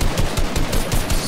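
Rapid automatic gunfire in the video game Fortnite, loud bursts of shots firing in a quick, steady rhythm, with no voices over the shooting.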